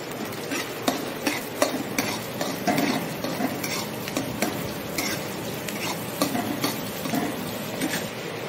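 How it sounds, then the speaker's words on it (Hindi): Chopped onions fry and sizzle steadily in a hot pan for pav bhaji, with a spatula repeatedly stirring and scraping through them; the frying stays close and even with no talking. "देन हम इसमें अपने ऑनियन को ऐड करके अच्छे से फ्राई करेंगे।"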